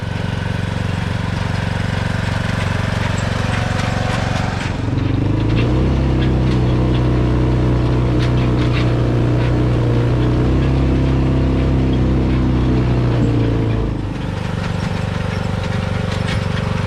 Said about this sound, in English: driving them over with a lawn tractor and ATV